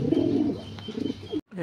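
A pigeon or dove gives a soft, throaty coo, close and clear, in one short rolling phrase that cuts off abruptly near the end.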